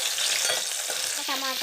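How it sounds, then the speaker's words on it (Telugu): Green chillies fry in hot oil with a dense, crackling sizzle and scattered pops, a short stirring scrape near the end, all close and continuous with no voices. "వేడయ్యాక పచ్చిమిర్చి వేసుకోవాలి."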